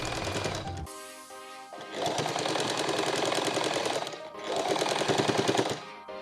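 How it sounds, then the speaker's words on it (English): A sewing machine stitches a frilled pillowcase in rapid mechanical bursts: a brief run, a short pause, then two longer runs of rattling stitching close by, with no talking. "start sewing from the other top edge and sew down and all the way around."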